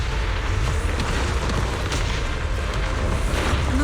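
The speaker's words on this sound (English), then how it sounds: "Move in during the gaps between explosions." Explosions in the video game Zenless Zone Zero rumble in a continuous, dense barrage of deep booms and bursts, loud and near, with no talking over them.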